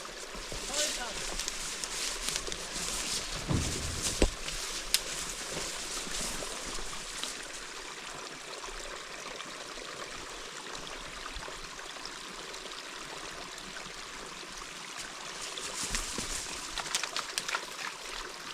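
Year-round spring water flowing out of a gulch, a steady mid-distance rushing and trickling stream with a few brief knocks and some rustling over it.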